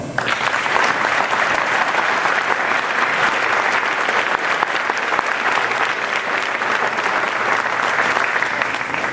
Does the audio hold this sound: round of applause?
yes